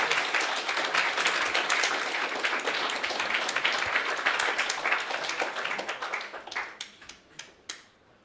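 Dense audience applause at a careers fair fills the room after a talk, then thins out over the last couple of seconds into a few scattered, separate claps.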